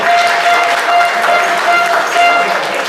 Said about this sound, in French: L'entreprise Kamalia avec Harry Ferrifi, qu'on applaudit s'il vous plaît.